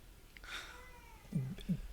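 A baby cries or babbles in a cat-or-baby guessing game, with two short, close, voiced bursts near the end of a quiet stretch and a faint high cry earlier.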